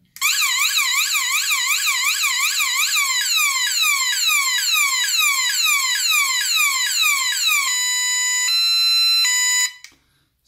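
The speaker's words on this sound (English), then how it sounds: "so there you heard the alarm to summon assistance" A loud, shrill electronic personal alarm on a folding walking stick warbles rapidly and continuously, then shifts to steady pulsing high beeps before cutting off abruptly.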